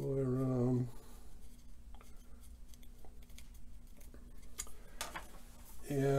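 A pencil draws a line all the way around a wooden drumstick near the tip, a soft scratching and faint ticking close by, with a person speaking briefly before and after.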